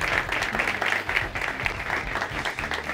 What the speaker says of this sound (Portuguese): Uma salva de palmas para todo mundo.